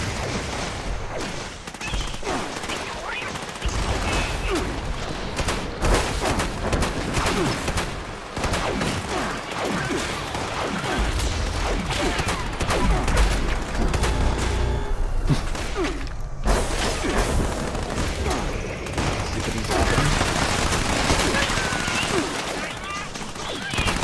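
Dense, relentless gunfire from the first-person shooter Fallout 76, with rapid automatic bursts, heavy shotgun blasts and crashing impacts packed together loudly with almost no pauses.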